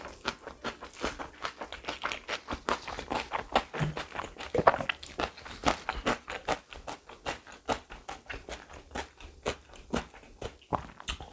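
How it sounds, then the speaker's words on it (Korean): Crunchy kimchi mixed with tuna mayo and buldak sauce is chewed close to the mic, a quiet, steady run of crisp crunches in a regular rhythm with no talking. "김치 아삭아삭 씹혀서 진짜 맛있어요."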